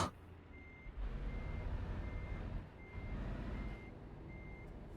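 A truck reversing in Euro Truck Simulator 2, its evenly spaced high reversing beeps repeating over a low diesel engine rumble that swells and eases.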